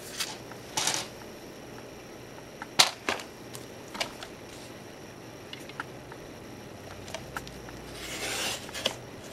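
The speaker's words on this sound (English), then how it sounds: "I'm just going to trim it." A paper trimmer slices greeting card stock, giving a few short sharp cutting strokes and scraping swipes over a quiet room background, with a longer rasping slide near the end.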